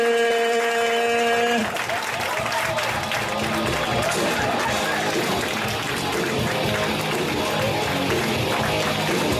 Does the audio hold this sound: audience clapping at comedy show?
yes